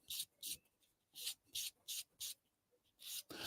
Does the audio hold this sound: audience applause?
no